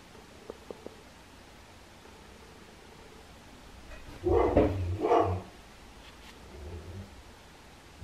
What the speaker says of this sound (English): Sorry, it's Jonah barking at someone posting something through the letterbox